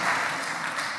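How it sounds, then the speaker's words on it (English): Congregation applauding inside a church building, a steady, dense wash of clapping lasting about a second with no speech over it. "You can applaud that."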